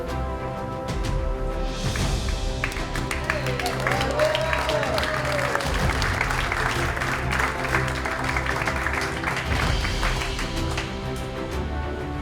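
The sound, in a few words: audience applause at Pickleball Hall of Fame ceremony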